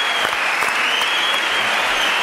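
A TV studio audience applauds loudly and continuously, a dense close wash of clapping with no pause, a steady tone running underneath.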